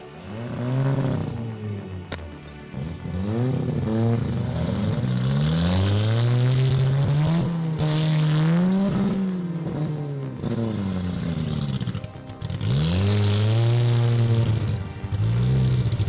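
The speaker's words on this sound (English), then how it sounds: "This red car runs on pure stubbornness, not gasoline." A smoking red car's engine revs up and down in repeated rising and falling sweeps, loud and close, with a steady rumble and no talk.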